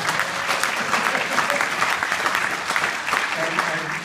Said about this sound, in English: if you would all applaud